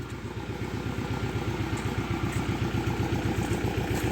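A tractor engine runs in a forest with a steady, rhythmic chugging idle, close and moderately loud, its low pulsing beat unbroken throughout.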